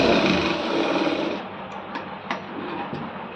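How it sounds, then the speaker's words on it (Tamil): A sewing machine stitches fabric with a steady, dense whirring that eases off slightly partway through. A few faint clicks sit over the hum, and no one speaks. "இதை மடித்து ஒரு தையல் போட்டுருங்க"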